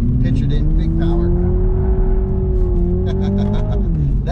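A Toyota Supra's engine revving hard through a skid, a loud close drone that climbs and holds under sustained power, then briefly dips and rises again, with someone talking over it.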